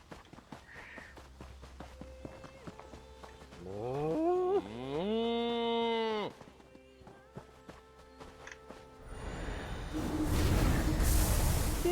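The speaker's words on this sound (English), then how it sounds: "Oh, another sheep. Nope, that was a cow." A cow in the Elder Scrolls Online game gives a single long, drawn-out moo, close and clear, framed by soft in-game footsteps and ambient clatter, ending in a loud burst of noise.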